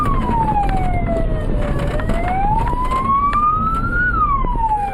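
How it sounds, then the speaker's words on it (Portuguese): A wailing vehicle siren rises and falls continuously over steady road rumble, loud and close throughout. "os motoristas ligam sirenes para alertar possíveis pedestres"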